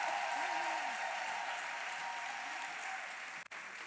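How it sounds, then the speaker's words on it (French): Mothers in a church congregation applaud the fathers, a steady broad wash of clapping from a crowd that holds throughout, with a brief dip near the end. "Que les mamans acclament les papas."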